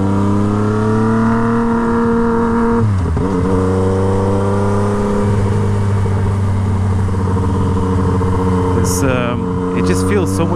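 A Yamaha MT-09 motorcycle with a straight-pipe Toce exhaust runs loud and close, holding a throaty engine note, dipping, then climbing steadily in pitch under acceleration, with sharp pops near the end and a voice briefly over it.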